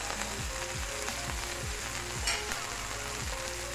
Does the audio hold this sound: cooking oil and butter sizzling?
yes